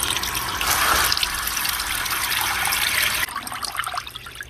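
Water gushes and splashes steadily from a 1971 Johnson Evinrude 9.5 horsepower outboard motor running with its original impeller, a close continuous wash that drops to a lighter trickle near the end.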